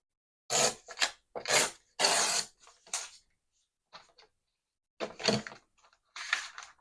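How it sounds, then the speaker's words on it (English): A paper popcorn bag being torn along a ruler edge in short ripping bursts, four close rasping tears in quick succession, then a pause and two more, with silence in between. "I'm just going to tear off the excess here just with my ruler as my guide"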